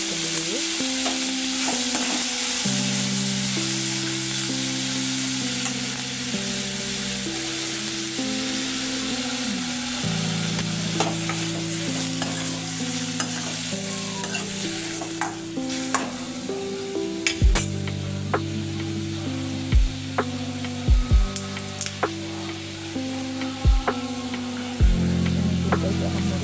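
Tomato, ginger and garlic fry in a pan with a bright, constant sizzle, while a utensil stirs and clinks against the metal now and then, close up over a soft tonal background.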